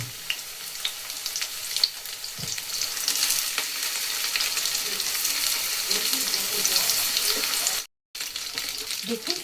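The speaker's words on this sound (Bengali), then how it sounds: "আমি এখানে উল্টে পাল্টে দেবো যাতে এঁচড়গুলো সব ভাজা হয়ে যায়" Young jackfruit and potato pieces fry in hot oil, giving a steady sizzling hiss with light stirring clatter throughout and a brief silent gap near the end.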